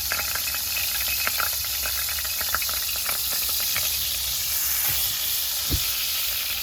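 A garlic butter sauce for shrimp sizzles and reduces in a pan, a loud continuous hissing crackle with scattered pops and a brief stirring scrape near the end, no talking.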